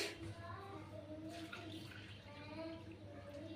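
Water poured from a filled container onto a money plant on a rooftop, a soft steady splashing trickle, fairly faint and close, lasting a few seconds.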